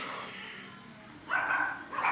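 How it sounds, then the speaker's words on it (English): A couple of quick dog barks, faint and somewhat distant, near the end of an otherwise quiet moment. "My dogs go nuts as soon as I try to start filming."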